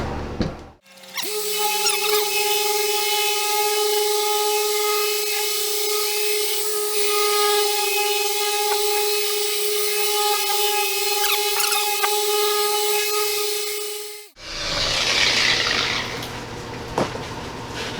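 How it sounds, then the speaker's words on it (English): A car detailing polisher spins on the paint of a neglected Jeep Grand Cherokee, a steady, close whirring hum with a high tonal whine that holds evenly for about fourteen seconds before winding down, followed by a short hiss. "don't pull your polisher up until the pad's done, almost done spinning, but don't stop it on the panel"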